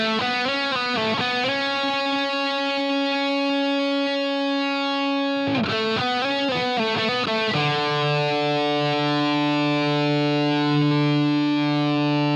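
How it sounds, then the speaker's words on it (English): Distorted electric guitar through an HX Stomp metal amp patch with Glitz reverb plays sustained heavy chords with a reverberant tail, shifting to a lower chord midway and ringing out continuously. "Reverb is the Glitz reverb, and it sounds like this."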